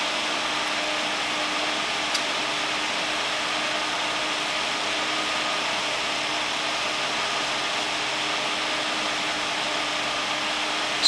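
Noctua NF-F12 PWM computer fan spinning at 1900 RPM, a steady broadband whoosh of moving air with a faint motor hum, constant and close with no talking.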